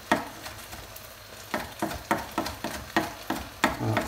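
A spoon stirs chopped asparagus pieces into risotto rice in a pan, with a quiet sizzle under repeated scraping strokes that fall into an even rhythm, close and moderately loud.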